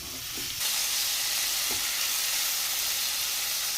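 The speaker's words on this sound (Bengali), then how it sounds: "তেলটা গরম হয়ে গেছে আমি এখন মাখিয়ে ম্যারিনেট করা চিকেনটা তেলের মধ্যে দিয়ে দিলাম" Marinated chicken drops into hot oil and a loud, bright sizzle bursts up almost at once, then holds as a steady close hiss of frying.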